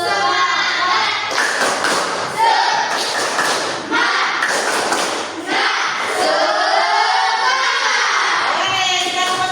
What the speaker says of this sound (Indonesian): Ayo kita tepuk semangat dulu.